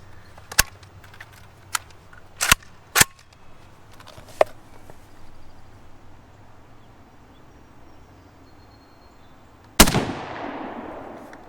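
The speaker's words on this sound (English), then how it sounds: "let's load it up and let's shoot it. And this is some first shots with some Tula" Gunshots from a Saiga hunting carbine firing Tula full metal jacket ammunition, about 122 grain: several sharp, loud cracks spaced irregularly over the first few seconds, then a pause and one final heavy blast with a long ringing decay.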